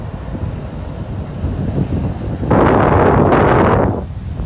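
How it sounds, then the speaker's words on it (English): Hurricane Dorian's strong wind roars against the microphone, a steady rumbling buffet that surges louder for a second or two midway before easing back. "Listen to that wind."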